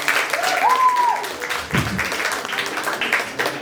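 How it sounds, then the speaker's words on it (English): Stand-up comedy audience clapping for earlier comedians at a first open-mic set, a moderate wash of applause under a faint whistle, tapering off as the room settles. "round of applause for everyone that's come before me"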